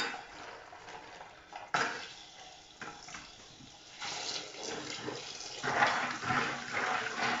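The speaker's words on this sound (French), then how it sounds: "je les passe un coup sous l'eau glacée de manière à bien rincer" Plastic beekeeping equipment is rinsed under ice-cold tap water in a sink, with steady running water, a sharp knock as an item is handled, and the splashing growing louder and fuller as more water hits the plastic.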